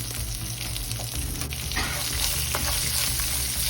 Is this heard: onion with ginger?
yes